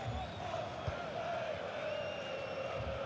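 Steady dense roar of a football stadium crowd in a Manchester United video game match, late in the final minutes with the home side chasing an equaliser; a continuous, loud, even wash of cheering with no clear break.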